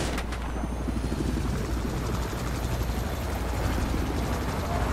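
A video game helicopter flies with a steady, loud rotor thump and engine drone that holds constant and close throughout.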